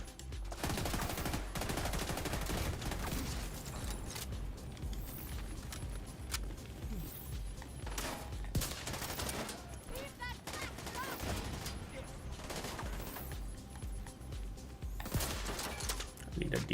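Rifle fire in The Division 2, sustained bursts of shots cracking over a dense, continuous firefight backdrop, steady and fairly loud across the whole stretch, with no talking.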